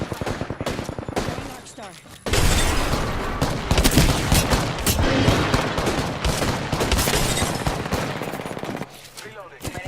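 R99 submachine gun fire in a video game firefight, rapid full-auto bursts with sharp cracks and heavy impacts that swell loud for several seconds, while players call out over the shooting.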